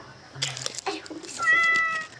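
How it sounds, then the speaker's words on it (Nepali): A cat meows a few times close by, short, slightly strained cries, with the last one drawn out. "कसको बिरालो"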